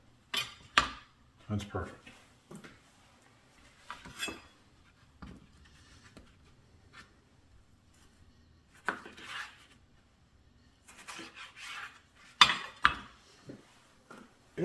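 Kitchen knife slicing tomatoes into halves, quarters and eighths on a cutting board, heard as scattered sharp taps and clacks against the board with brief pauses, fairly close, with a voice speaking briefly between cuts.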